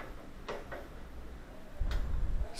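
A small plastic door switch harness connector on an LG dryer snaps into place with a few light, close clicks and ticks amid handling noise, followed by a duller thump near the end.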